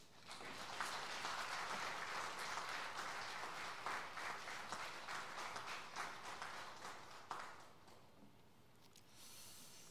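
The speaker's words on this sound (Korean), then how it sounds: "우리 보내주신 하나님께 감사의 박수를 드리죠" A church congregation applauds during a Sunday worship service, a soft, distant roll of many hands clapping that holds steady and then fades away near the end.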